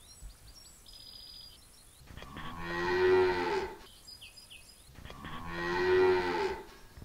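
Dairy cows on a 50-cow milking farm mooing in two long, loud, drawn-out calls close by, separated by quieter barn sound with faint bird chirps between them.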